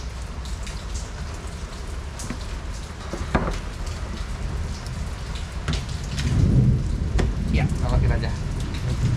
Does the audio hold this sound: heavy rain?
yes